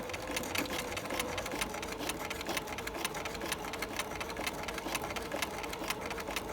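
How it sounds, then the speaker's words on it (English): A sewing machine stitches a sleeve into a garment, running continuously with a rapid, even mechanical chatter at moderate volume from start to finish, with no talking over it. "So, as you can see, I'm just sewing."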